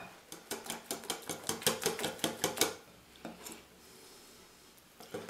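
A wire whisk beats beer batter for calamari in a bowl with a quick, steady rhythm of about a dozen clinking strokes, then stops, leaving a faint scrape and a quiet pause.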